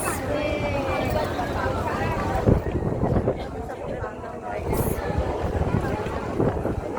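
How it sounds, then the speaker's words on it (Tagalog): Gusty wind buffeting the microphone with rumbling, uneven bursts during a religious procession, while people talk in the background. "Ay, sarap ng hangin. Humangin din sa wakas."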